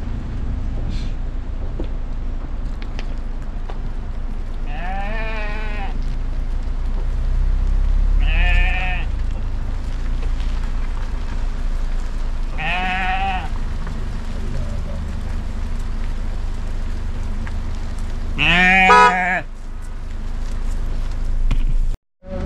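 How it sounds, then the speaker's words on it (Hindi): A flock of sheep and goats on a mountain road in the Astore valley bleats intermittently, four distinct calls spaced several seconds apart over a constant low rumble of wind or engine noise. "सामने दे भेड़ बकरियां जो है वो ऊपर से उतर रही हैं"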